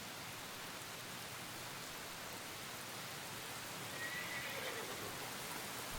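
Steady rain hisses evenly throughout, with a faint, high whinny-like sound briefly rising above it.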